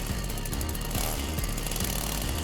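Chainsaw engine revving in a visual novel game, a harsh continuous mechanical drone with pulsing low thuds, loud and close, with no voices.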